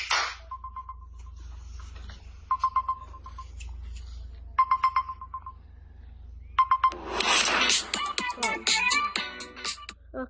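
A phone-finder prank sound plays as a ringtone: repeated short bursts of pure electronic beeps in clusters, then a loud, busy jingle-like ringtone burst near the end, with no talking.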